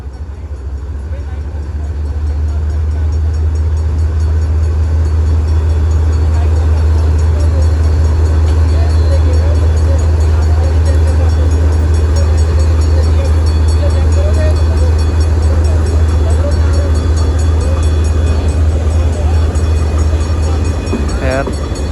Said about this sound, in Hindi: एक ट्रेन रवाना हो रही है, पहुंच रही है।